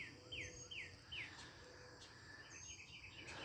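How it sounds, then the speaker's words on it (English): A starling sings from a backyard tree, a string of repeated downslurred whistles followed by softer chatter, faint and fairly distant over a low background of insects. "There goes a starling, but up there, that you hear singing up there right now, up in that tree"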